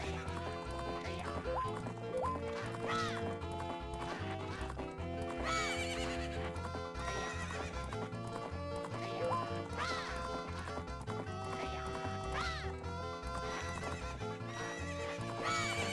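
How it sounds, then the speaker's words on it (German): Video game horse race in Zelda: Majora's Mask, with repeated horse neighs and whinnies and clip-clop hooves over continuous busy game music, dense and steady throughout. "Das Pferderennen."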